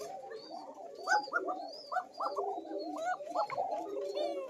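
Coca pigeons with a thin, high-pitched coo, kept in pairs at a breeder's loft, give repeated soft rhythmic cooing calls close by, overlapping one another throughout.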